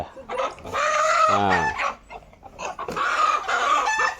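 Chickens cluck and squawk in a string of loud, close calls, with a brief crow-like harmonic cry in the middle and short pauses between bursts.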